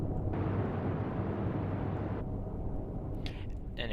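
Naval guns fire on ships in the Atlantic Fleet war game, a sustained deep rumbling boom that fills the clip and tails off, with faint higher effects near the end.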